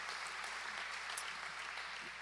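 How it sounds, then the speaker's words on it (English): A church audience applauds guest speakers, a dense, even wash of clapping from a crowd that holds steady from start to end. "Can we give all those guys an amazing round of applause?"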